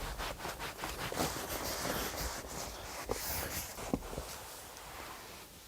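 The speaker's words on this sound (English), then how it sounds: "I'm going to grab a clean part of the towel I haven't used and just basically rub off any of the excess and shine up or buff up the leather a bit." A towel rubs and buffs the leather of a 1966 Jaguar S-type car seat, giving a soft, close, steady swishing in quick repeated strokes with a few faint bumps. Nobody talks.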